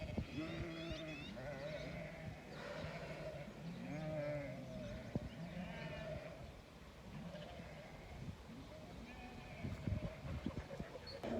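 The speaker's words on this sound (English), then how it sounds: "Okay, so I have the sheep." Sheep bleat repeatedly on a farm preparing for lambing, several wavering calls overlapping at close to moderate distance against steady background noise, with a person talking now and then.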